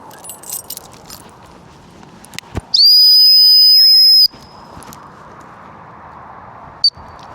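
A single sharp, loud dog training whistle blast lasts about a second and a half at a steady high pitch, then a brief faint chirp follows. Before it comes quiet indoor rustling and a jangle during a dog training class.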